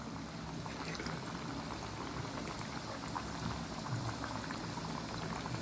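A wheat flour puri fries in a pan of hot oil, giving a soft, even, bubbling fizz close by that goes on without a break and without any speech.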